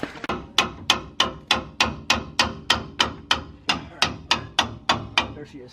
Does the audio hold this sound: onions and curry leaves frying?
no